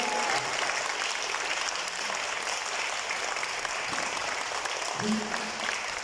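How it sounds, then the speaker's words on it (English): Sustained audience applause at an awards ceremony for the Green Ranger Program in Mauritius, honoring a first prize winner; dense, steady clapping from a crowd with faint voices mixed in. "sous vos applaudissements, chers amis, Marc Maurice Cérémonie."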